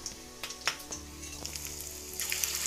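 Eggs deep frying in hot oil for a Chinese egg chilli dish, a steady close crackling sizzle with scattered sharper pops, growing slightly busier toward the end, no talking.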